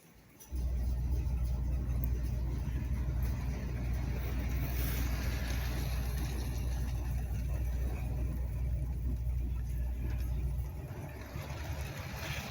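A model Pacific locomotive with a fussy motor running at higher throttle while pulling a load, giving a steady low mechanical hum that starts abruptly, holds evenly, then eases slightly near the end.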